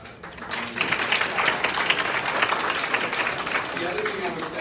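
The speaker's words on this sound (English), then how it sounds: "give a huge round of applause to this class" An awards reception audience gives a class a big round of applause: steady, dense clapping from many hands filling the room for several seconds, with some voices mixed in.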